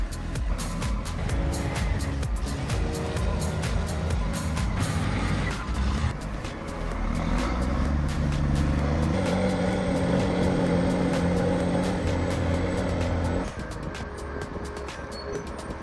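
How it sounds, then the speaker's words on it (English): Heavy log truck labouring up a steep hill, its engine droning loudly and continuously with strained rumbling, clanks and rattles throughout, and the pitch shifting midway as the load struggles, close by with no talk. "The heavy log truck struggles to climb the steep hill"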